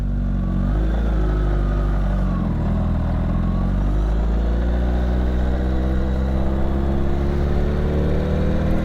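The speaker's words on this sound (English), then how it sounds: "First ride on the newly flashed bike." A 2021 Kawasaki Ninja H2 SX SE+ supercharged motorcycle, freshly ECU-flashed, pulls away on its first ride, the engine note rising and falling through gentle throttle changes in a loud, steady, close drone.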